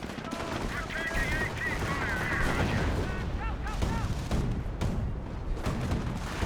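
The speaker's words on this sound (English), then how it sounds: "Here an artillery barrage." Artillery barrage in the Company of Heroes video game: dense, continuous gunfire and heavy booming blasts, loud and chaotic, with rattling small-arms fire and battle chatter layered under the shelling.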